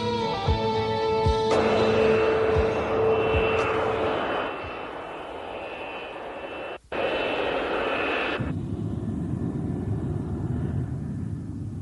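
Several F-15 Eagle fighter jets on a NATO exercise, a loud roaring engine rumble with a whining tone that cuts out abruptly, briefly drops away, then returns before fading to a lower, duller roar.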